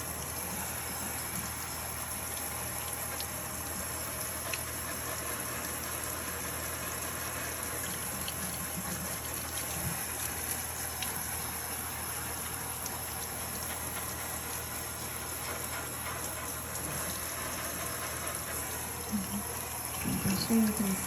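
Running water rinsing out an Ikonart stencil, a steady hissing spray like a faucet or hose that stays even for the whole stretch, with faint clinks near the end.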